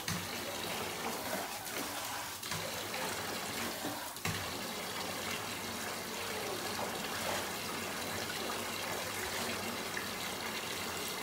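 Tap water runs steadily for rinsing six-week-old AussieDoodle puppies, a continuous soft gushing splash with a brief shift partway through and no clear talk.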